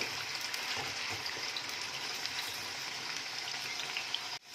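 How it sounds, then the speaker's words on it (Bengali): Potatoes frying in oil for a Bengali vegetable khichuri, a steady close sizzle and crackle that holds evenly throughout with no talk. "আলুগুলোকে এখন ভালো করে ভেজে নেব।"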